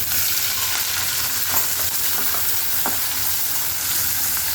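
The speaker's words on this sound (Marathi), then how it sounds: "आता त्याच्यामध्ये मी टाकते हा कांदा" Onion dropped into hot oil already holding garlic, ginger and two green chillies for soybean chilli, giving a steady, loud sizzle with a few brief stirring clicks throughout.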